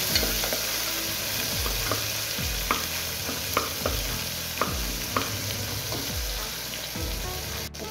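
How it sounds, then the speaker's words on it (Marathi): Two tomatoes fry with garlic in a pan for dal, a continuous close sizzle broken by periodic scraping knocks of a spoon stirring. Low gliding tones hum in the background. "टमाटोला मी फ्राय करून घेऊ बरं।"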